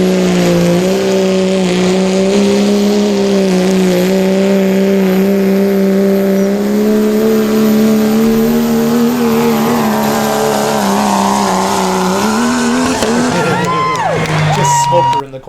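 Pulling truck engine roaring hard at a truck and tractor pull, one sustained loud drone that climbs in pitch as it pulls the sled, then drops and falls away near the end, with crowd noise behind.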